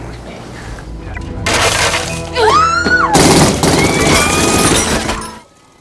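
Gunfire in a film thriller: loud bursts of shots and crashing impacts across several seconds, with a sharp swooping whine in the middle, then a sudden stop into near silence.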